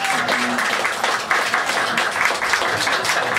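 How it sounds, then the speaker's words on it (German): Audience applause at a live music evening with a band, dense steady clapping throughout, fairly near. "Applaus, Applaus!"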